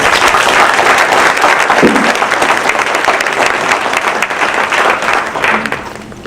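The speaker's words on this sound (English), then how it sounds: "Let's give them a big applause." Loud, dense applause from a crowd at a Maryland Hall of Fame 2017 honoring event, steady sustained clapping that tapers slightly toward the end.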